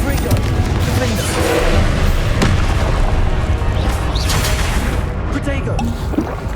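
A Confringo fire spell bursts in Hogwarts Legacy amid a dense, loud wash of combat noise, with booming impacts and crackling debris layered over continuous game audio and a player voice.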